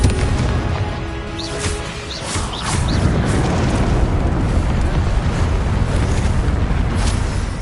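A Confringo fire spell explosion in the Hogwarts Legacy video game, loud and sustained, with a dense roaring blast and rumble that continues for several seconds, plus faint chirping effects early on.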